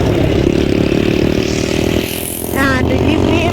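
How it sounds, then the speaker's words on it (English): A Triumph motorcycle engine runs with a steady, throbbing idle, dips briefly, then rises in a quick rev; muffled voices may sit faintly underneath. "I love the sound of that bike"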